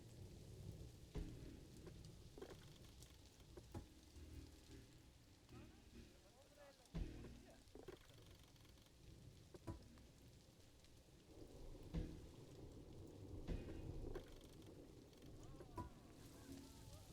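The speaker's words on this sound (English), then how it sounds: "it's raining as it usually is" Steady rain and low rumbling thunder in the zoo-building game Planet Zoo, a continuous wash of rainfall with occasional deeper rolls and swells throughout.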